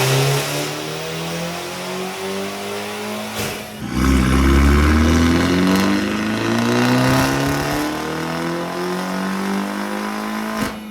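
BMW 330 with a turbocharged 2.0-liter four-cylinder B48 engine running a JB4 tune with E30 blend, revving hard on a dyno: a loud, sustained pull with rising engine pitch, a brief dip around four seconds, then climbing again.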